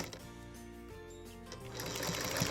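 Sewing machine stitching binding onto a quilt with a scalloped edge, a steady close mechanical whir that runs continuously through the whole stretch.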